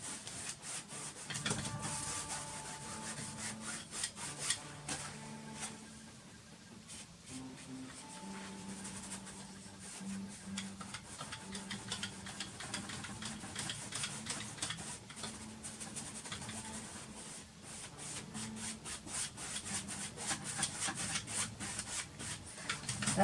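An eraser scrubs out pencil shading on paper, making close, quiet, rapid rubbing strokes in a continuous scratchy rhythm with brief pauses.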